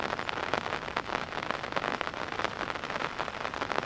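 Rain falls steadily on an outdoor disc golf course, a soft, even patter of drops on surfaces, faint and continuous.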